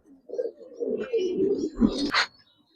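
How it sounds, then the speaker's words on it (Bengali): High flyer pigeons coo nearby in soft, low, rolling calls, several overlapping murmurs ending with a brief higher flutter. "সব হাই ফ্লেয়ার কবুতর ভাই"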